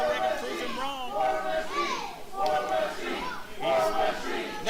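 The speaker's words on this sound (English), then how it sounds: "They're all chanting War Machine" A wrestling crowd at an independent show chants a wrestler's name in a rhythmic, repeated cheer, mixed voices rising and falling together, loud and close with some shouting layered over it.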